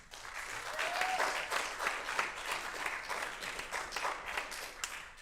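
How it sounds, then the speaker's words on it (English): Audience applause at a jazz concert celebrating Charlie Parker, a steady wash of many hands clapping that swells early and holds at a fairly even level throughout, with no talk over it. "Please give a round of applause for CSMA for having us."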